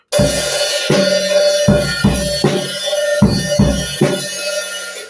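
Drum kit playing a steady groove: repeated kick thumps from a left-foot kick pedal with snare and cymbal hits, close and loud, no voices.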